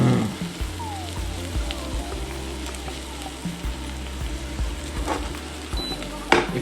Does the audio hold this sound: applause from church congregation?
no